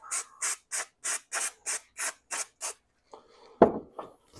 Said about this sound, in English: Wipe it up.